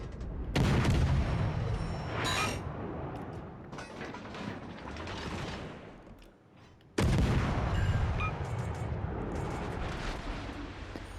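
Heavy gunfire in a combat video game, a loud, dense barrage of shots and booming blasts that fades briefly before a sudden sharp report restarts a steady roar of fire, close and without talking.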